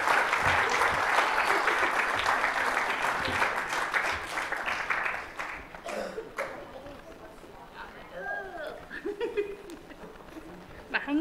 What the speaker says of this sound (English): We're going to give these people a round of applause as they go and sit down.